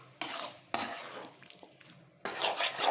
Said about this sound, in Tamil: இப்போ எல்லா மசாலாவும் ஒன்றா சேர்கிற மாதிரி நல்லா ஒரு கலக்கிக்கோங்க.